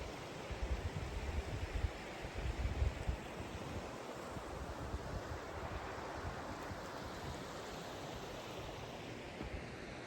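A river flows in Goddard Canyon on the South Fork of the San Joaquin, heard as a steady, faint broadband rush with some wind buffeting the microphone and no speech.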